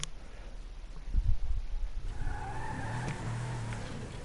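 A car driven slowly in Grand Theft Auto 5, an old-looking model, gives a steady low engine rumble that swells after a brief thump, holding a continuous drone with rising tonal whine near the end.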